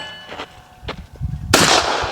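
A single sharp gunshot cracks out during outdoor skeet shooting and rings off into a brief decay, preceded by a few light knocks and handling clanks.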